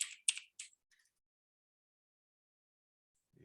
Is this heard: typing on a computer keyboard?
yes